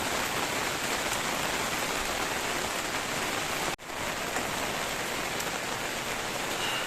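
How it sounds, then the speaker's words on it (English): Heavy rain drums continuously on a garden polytunnel, a dense, loud hiss close overhead, unbroken apart from a tiny momentary dip. "the rain is coming down quite heavy now"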